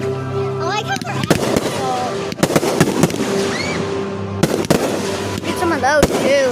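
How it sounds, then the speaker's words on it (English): Fourth of July fireworks pop and crack in repeated sharp bursts at irregular intervals, some with whistling rises, while people talk and react nearby between the blasts. "I love fireworks."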